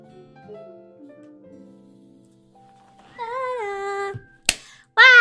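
A cat makes a couple of wavering, tonal meows near the end, with a sharp snap-like tap between them. Softer, lower tones come before the meows in an otherwise quiet room.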